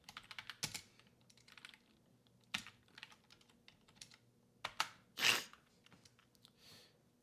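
Scattered keystrokes on a computer keyboard tap out in short bursts and single clicks, faint and close in an otherwise quiet room.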